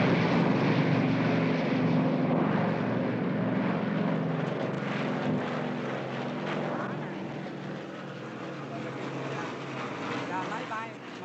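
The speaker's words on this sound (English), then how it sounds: "The planes again." Airplanes fly overhead with a broad, sustained engine roar that is loud at first and slowly fades, with voices audible faintly beneath.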